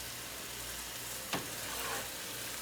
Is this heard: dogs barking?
no